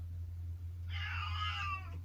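A house cat lets out a single loud, drawn-out meow that lasts about a second, close by over a steady low hum.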